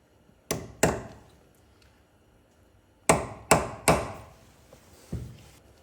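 Sharp metallic hammer blows on a center punch, two quick strikes, a pause, then three more in quick succession and a lighter final tap, close and fairly loud.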